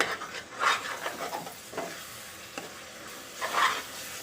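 Prawn biryani masala mixed with curd is sautéed in hot oil, a steady close sizzle broken by several scraping stir strokes of the spoon against the pan, with no voices.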